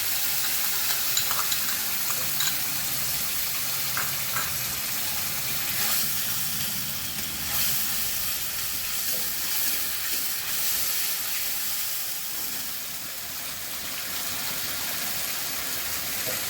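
Onion, tomato, cashew, garlic and ginger masala fries in a hot pan for masala rohu fish, a constant loud sizzle with steamy hiss and occasional stirring taps, continuing steadily without talk.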